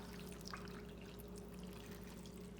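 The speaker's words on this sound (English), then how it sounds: "And then adding another 2 cups of water." Two cups of water poured into a pot of small cubed sweet potato on a kitchen stove, a steady continuous splash and trickle at low level throughout.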